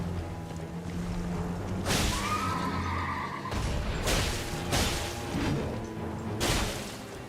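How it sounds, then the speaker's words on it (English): A horse neighs loudly in the video game Elden Ring, a rising whinny layered over game sounds, with several heavy impact crashes and thuds following in quick succession. "With your silly little horse."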